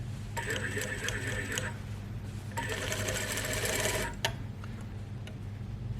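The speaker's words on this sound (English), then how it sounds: "We're gonna sew now around the front neckline." A domestic sewing machine stitching around the front neckline of a lined overgarment, running in two steady bursts of rapid mechanical whirring separated by a pause, close and clear over a low background hum.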